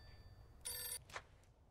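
A telephone rings in Mafia 2 with one short, bright burst of bell ringing and then a briefer second ring, faint and alone over a low background rumble.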